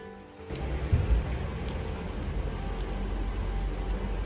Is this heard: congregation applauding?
no